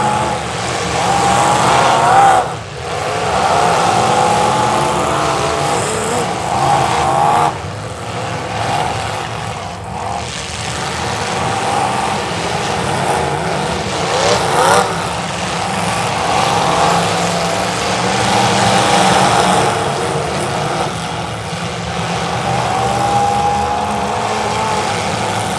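Demolition derby cars at a county fair rev and grind together in a sustained, roaring engine din heard from the stands, with a few sharp bursts and drops as the cars crash and stall.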